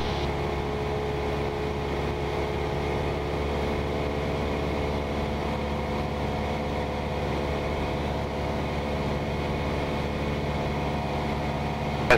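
A small aircraft engine holds a steady, continuous drone with a low hum, cleared for takeoff on runway 08. The level stays even and there is no audible talk.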